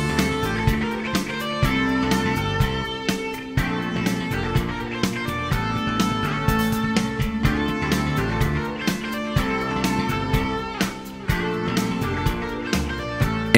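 Jazz fusion track by a Japanese band: a dense full-band recording with a steady drum groove, bass and bright layered melody lines, playing continuously and loud.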